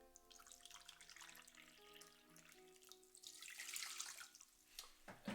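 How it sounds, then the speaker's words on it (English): Water runs from a kitchen tap while one cup is measured out for quinoa, a faint splashing stream with trickling and dripping that swells toward the end, heard close and alone. "So I'm going to take 1 cup of water."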